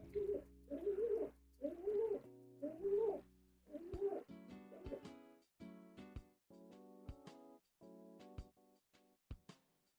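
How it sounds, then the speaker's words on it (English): Pigeons cooing in a run of soft, throaty, repeated calls through the first four seconds, followed by bright harmonic tones and sharp clicks that carry on to the end, with no voices. "I really wish I had something that would just animate a pigeon whenever the pigeons are making noise."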